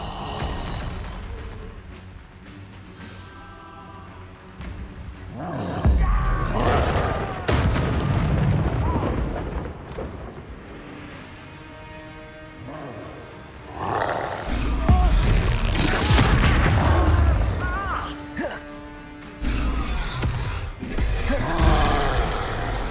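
Spell blasts from Expulso and Confringo in Hogwarts Legacy, a series of loud booming explosive bursts over a busy battle soundscape with shouted incantations, heaviest around the middle and near the end.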